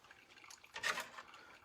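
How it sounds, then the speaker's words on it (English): Water poured from a kettle into a spoon over pourover coffee grounds, a soft, close trickle that swells briefly into a brighter splash and then settles, with no talking. "If I want to have more control, I can pour into the spoon."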